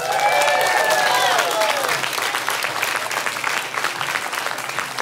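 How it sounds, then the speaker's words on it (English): A church congregation claps loudly, and whoops and shouts ring out over the applause at first. The clapping continues strongly and then eases slightly toward the end. "Give God a shout and a clap."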